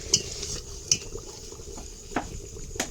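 A spoon stirs a thickening palm fruit mixture in a pot in a village kitchen, giving soft scraping with a few sharp clinks against the metal, close and fairly quiet with no voices.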